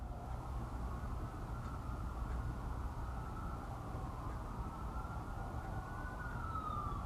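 A police siren wails outside, its tone rising and falling steadily over a low traffic rumble, continuous and moderately distant, with no talking.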